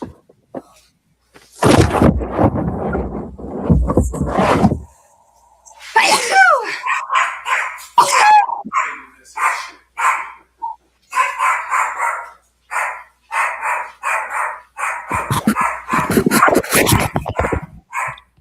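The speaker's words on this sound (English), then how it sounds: "I have two pugs that just will never stop barking" Several sharp barks from two pugs burst out in clusters, loud and close, with snorting, sneezy sounds and quieter stretches in between.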